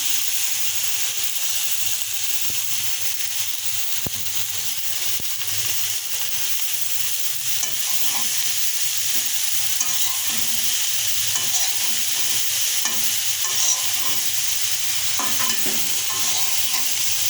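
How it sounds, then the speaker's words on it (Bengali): Gourd peel and potatoes fry in a pan with garlic and onion, a steady dense sizzle running throughout with scattered clicks and scrapes of stirring, no voices. "লাউয়ের খোসা আলু একসাথে দিয়ে ভাজি করবো"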